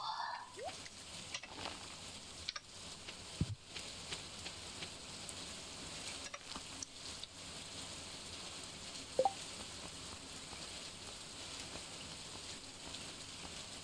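Rainfall in the Stardew Valley farming video game, a soft, steady hiss of rain with a few faint clicks and taps along the way, no talking.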